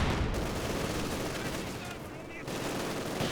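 Sustained MG42 machine gun fire in Company of Heroes 2, a dense, continuous rattling roar of battle that stays loud throughout and dips slightly midway, with no talking.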